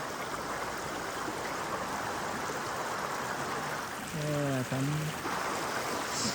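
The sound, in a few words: river stream flowing where people swim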